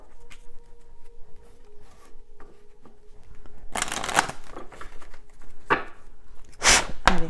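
Tarot cards are shuffled up close, faint riffles at first and then loud, crisp bursts of card flutter in several quick rounds, with no talking.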